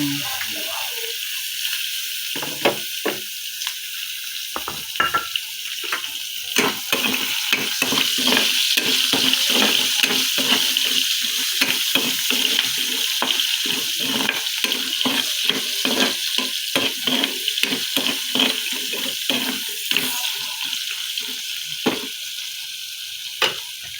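Vegetables, including Baguio beans, sizzle and fry in a pan while a spoon or spatula stirs and scrapes in quick, repeated strokes, close up and steady throughout a home lunch cook.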